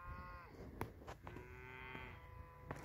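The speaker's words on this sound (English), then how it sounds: "The cows are not happy." Cows moo repeatedly in the open on a farm morning: a long drawn-out low call starts the clip, then a second one, with a few sharp knocks and a steady background hiss throughout.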